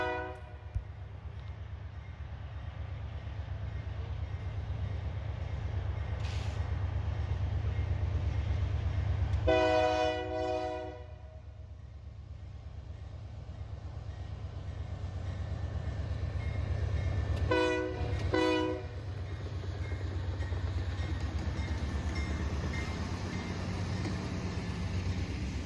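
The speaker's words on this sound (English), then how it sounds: "we catch a westbound intermodal with a classic low ditch light AC-44 in the lead" A westbound intermodal freight train led by a low ditch light AC-44 locomotive rumbles steadily past, with loud multi-tone horn blasts sounding twice, one long and one split into short bursts, over the continuous rolling drone.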